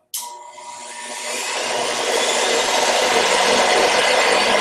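A fresh-air supply machine for an automotive painting mask switches on with a brief thump, then a steady, loud broadband blowing hiss that builds slightly and holds, like a vacuum or blower motor running close by.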